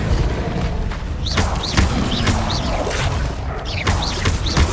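Fiery magic spell being cast, loud whooshing bursts over a dense, roaring background, with several sharp flaring sweeps recurring every second or so.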